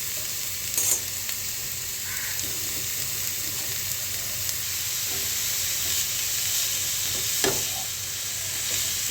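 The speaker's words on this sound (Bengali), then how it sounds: "এই ঘিয়ের মধ্যে আমি এবারে গাজরটা একটু ভেজে নেব" Carrots fry in ghee in a frying pan, giving a continuous, moderately loud sizzle with occasional sharp clicks and scrapes of stirring, and no voices.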